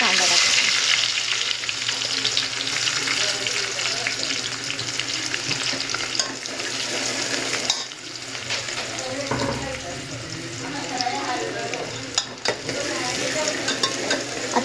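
Chopped onions sizzle loudly in hot oil with mustard seeds and curry leaves for Nashik-style misal, a steady broadband crackle with occasional stirring clinks and a brief dip midway.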